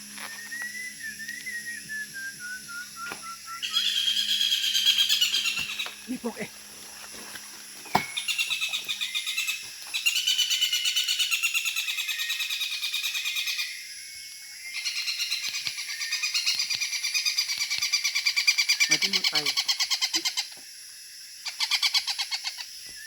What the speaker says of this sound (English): Wow, it's a woodpecker.